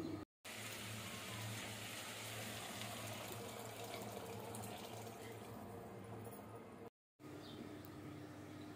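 Water poured into ragda, a spiced dried-pea curry cooking for panipuri, a steady close splashing stream running for several seconds, quiet and alone, with two brief silent gaps.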